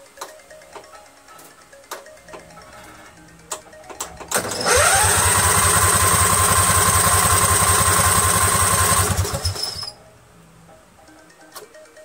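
A Craftsman 20.5 HP lawn tractor with a 46-inch deck and a Kohler Command V-twin engine, choked at half throttle, cranks briefly and catches. It runs loud and steady at close range for about five seconds, then shuts off.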